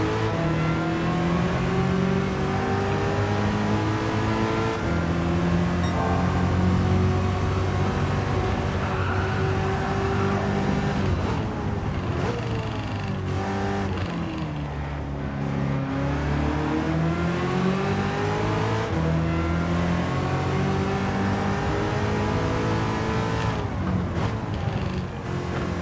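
A Ford race car's engine in Gran Turismo 7 drones loud and steady, its revs rising and falling through gear changes, with the whine climbing and dipping throughout.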